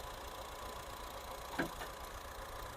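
A Honda Brio car engine idles quietly with a low, steady hum, broken once by a brief faint knock.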